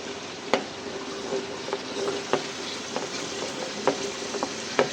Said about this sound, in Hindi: चिकन को भून रही हूँ अदरक लहसुन और प्याज के साथ।